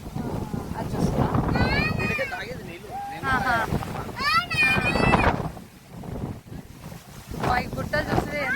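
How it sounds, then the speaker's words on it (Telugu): Strong wind buffets the microphone on a village hilltop, a heavy rushing roar that rises and falls beneath several people talking loudly over it. "ఎంత గాలి వస్తుందంటే మమ్మల్ని దొబ్బేసే అంత వస్తుంది."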